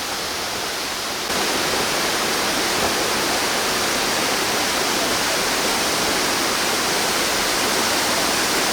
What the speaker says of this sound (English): Another magical Laos waterfall.